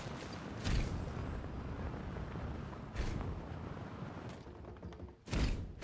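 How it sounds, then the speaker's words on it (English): Mortar explosions in the video game Tribes 3 land as three heavy, broadband booms spread across a few seconds, each rising sharply out of a dense, steady roar of battle noise. "The mortars. Lots of mortars."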